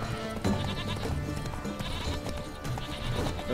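Goats bleat in the video game The Witcher 3: Blood and Wine, several short wavering calls scattered over a busy background of game sound, moderately loud and close.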